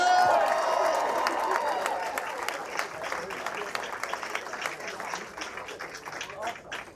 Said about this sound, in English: jump right in with applause as I welcome our next act